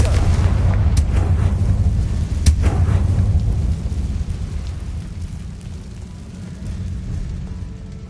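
A Confringo blasting spell explodes in a magic-combat video game: a sharp booming blast with crackling debris, followed by a sustained low rumbling roar that slowly fades, with further distant thuds.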